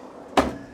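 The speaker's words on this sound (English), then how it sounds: "a huge big underbed drawer" A large underbed drawer in a 2026 H16 caravan slides out with one sharp knock as it hits its stop, followed by a brief rumble, close by in a quiet room.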